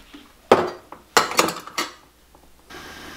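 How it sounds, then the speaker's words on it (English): Glass canning jars filled with deer meat clink and knock as they are set into a pressure canner, two or three sharp, loud metallic-glassy impacts close by with rattling in between. "now we've got the jars in the canner"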